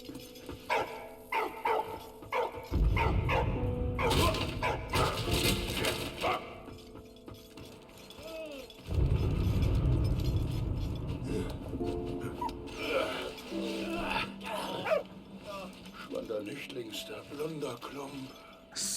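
A dog in the World War I video game Valiant Hearts gives short barks and yips amid game music and sound effects, with voices speaking in between.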